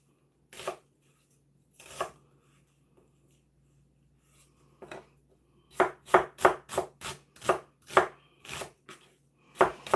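Kitchen knife chopping ingredients for a steak and Stilton pie on a board, a few spaced strokes at first and then a quick run of crisp, close, evenly paced chops, with no talking.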